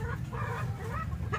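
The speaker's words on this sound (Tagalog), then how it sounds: "Ang 2 inahin ito" Low, throaty clucking from a pair of laying hens in a backyard pen, continuous and close with a few louder bursts, no talking.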